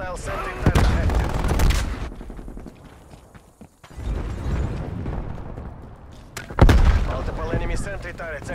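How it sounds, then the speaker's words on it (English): A sentry turret fires in a Black Ops Cold War multiplayer match on Nuketown 84, sounding as dense bursts of rapid gunfire that rise twice and sit among other game noise, with a brief quiet gap between them. "Hostile sentry turret active."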